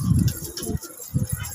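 Pigeons coo close by in low, throaty bursts: two rounded phrases with a short pause between them, and no talking.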